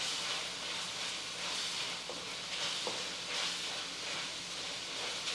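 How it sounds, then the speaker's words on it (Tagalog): Beef sautéing in a pan with tomato paste, a soft, steady sizzle and hiss with faint stirring scrapes mixed in, continuous and low in level, no voices. "susunod naman nating ilagay ang ating mga karne upang sangkutsahin"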